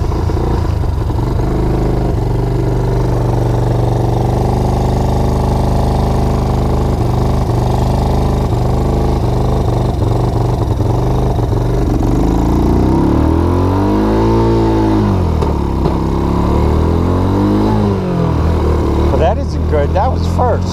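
A Baja Wilderness 90 engine runs loud and steady after the choke is switched off, its tone shifting and dipping in pitch midway before rising again, with no talk over it.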